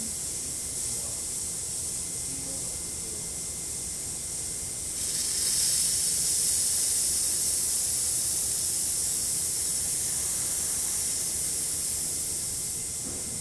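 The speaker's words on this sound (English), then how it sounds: "then I'll show you the steam" A La Pavoni lever espresso machine's steam wand gives off a steady, loud hiss that runs without a break and grows slightly stronger partway through, with no talking.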